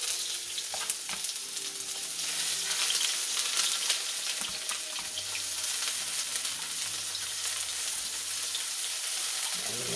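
Damp bean sprouts fry in a hot pan, a loud, steady crackling sizzle with occasional stirring scrapes, close up and continuous, with no one talking.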